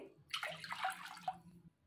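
Water splashes and pours steadily into a container for about a second and a half, close up, with a gurgling finish, two cups added to ground spices for mutton nihari.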